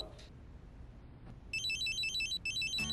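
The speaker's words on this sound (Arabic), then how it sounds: "تليفون" A telephone rings in a domestic scene, a repeating electronic trill that starts abruptly partway through and continues in close, loud bursts with a short gap, over a low background hum.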